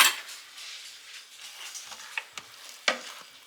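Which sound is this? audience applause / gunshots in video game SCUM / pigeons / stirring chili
stirring chili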